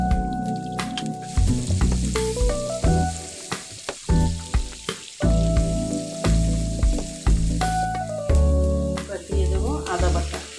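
Loitta fish (Bombay duck) frying in a pan, with steady loud sizzling broken by stirring scrapes and shifting bursts of crackle throughout.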